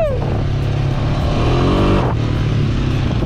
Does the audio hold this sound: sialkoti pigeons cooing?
no